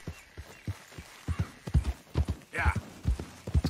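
Hooves of Maurice, a racing horse in Red Dead Redemption II, clip-clopping in a steady walking rhythm of distinct close thuds, with a brief snort or whinny near the middle.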